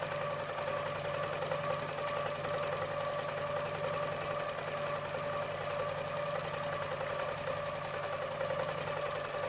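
Q'nique 19 quilting machine stitching: a constant, even mechanical whir with a steady hum and rapid needle rhythm, close and unbroken throughout, with no voices.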